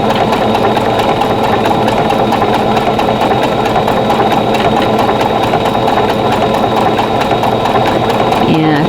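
A sewing machine stitches an appliqué block for a Christmas basket quilt in blanket stitch, a loud, continuous rapid mechanical whirring and clatter running steadily throughout.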